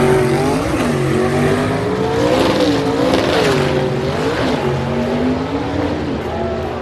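A Fiat drag race car making a soft launch down the track, its engine roaring loud and close, the pitch rising and dipping through the revs and shifts.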